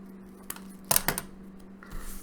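Scissors trimming small paper circles for a windmill craft, a few quick crisp snips clustered together, close and fairly quiet, with no talking.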